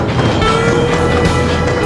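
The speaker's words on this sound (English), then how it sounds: "I think it's time for several shots of an elevated train with a lot of clickety clack" Elevated commuter train in an animated sitcom scene, a steady loud rumbling roll with a continuous clatter of wheels on track throughout and no gaps, no voices.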